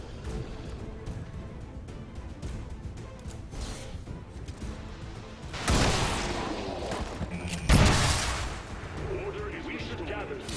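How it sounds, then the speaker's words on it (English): A trench gun fires at close-range targets in the XCOM 2 Long War 2 strategy game, heard as loud blasts with heavy booming impacts over a dense, busy game soundtrack. "I can hit targets right next to me with a trench gun."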